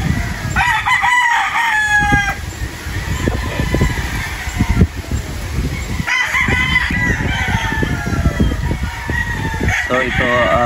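A pure Golden Boy gamefowl rooster crows loudly and close by on a farm, giving two long crows several seconds apart, with other clucking and voices in the background.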